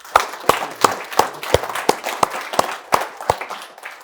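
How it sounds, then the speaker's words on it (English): A small live audience claps for Jackie, Sarah and Gary, sparse distinct handclaps at a steady rhythm, close and fairly loud, with no talking. "please help give a huge round of applause to Jackie,"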